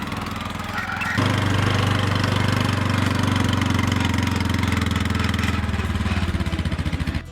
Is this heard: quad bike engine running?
yes